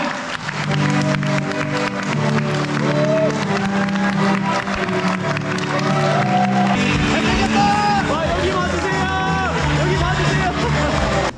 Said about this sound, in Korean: 하객 여러분의 큰 박수 부탁드립니다